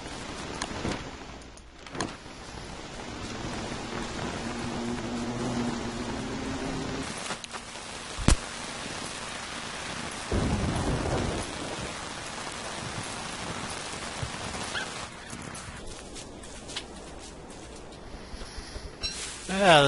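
Game rain and storm in Don't Starve hiss steadily as a wide noisy wash, with a few rumbling swells and one sharp crack midway, while someone talks over it.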